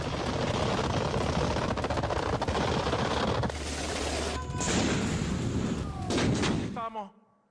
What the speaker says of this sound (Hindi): वेनेजुएला की सेना तोप से गोले दाग रही है।